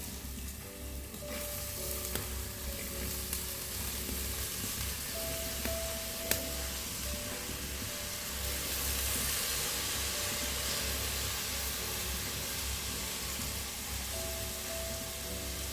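Chopped flat beans (amarakka) frying in a hot pan with chili and spice powder, a steady broadband sizzle that runs the whole time under a low hum, with a few brief clinks of stirring.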